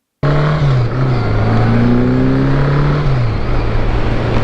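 A Honda Gold Wing GL1100 motorcycle engine runs with a smooth, steady drone. It rises and falls slightly in pitch as the throttle changes, sounds close and loud throughout, and carries no speech.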